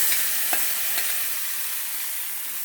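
Mustard seed tempering poured into ripe mango curry gives a brief hissing sizzle with a couple of crackling pops, close and fairly loud, fading into a steady frying hiss.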